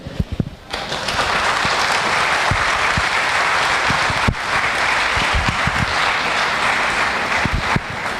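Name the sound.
audience applause at event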